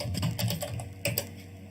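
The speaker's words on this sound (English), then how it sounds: "Now I will type VS Code." Fingers tap out a short burst of keystrokes on a computer keyboard, close and crisp, with a brief pause and a couple of final key presses, no speech.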